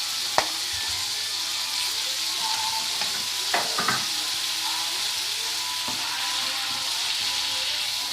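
Pork chops frying in an oil-filled pan give a steady, close sizzle that runs the whole way through, broken by a few sharp scrapes and clinks from a utensil.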